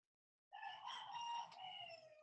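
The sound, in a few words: chickens clucking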